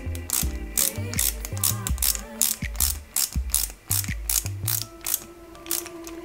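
A small screwdriver drives screws into a metal part of a Porsche 917KH scale model, producing rapid rhythmic ratcheting clicks that come in close, repeated bursts with brief pauses.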